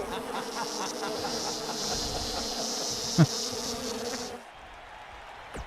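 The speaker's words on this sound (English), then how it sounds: "There's a lot of buzzing." Insect-like buzzing fills a WWE 2K19 wrestling game scene, a steady loud drone with a brief thump partway through, then cutting off abruptly near the end to leave quieter background.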